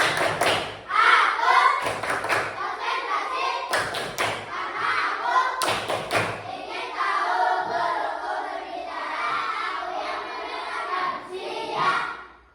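A class of children does the tepuk konsentrasi clapping routine, several sharp groups of claps and thumps breaking through steady chanting voices that continue between the bursts.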